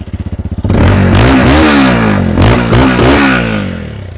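A GPX Demon 250R motorcycle idles with rapid putters, then its exhaust roars loud and close, revving up and down repeatedly before easing off.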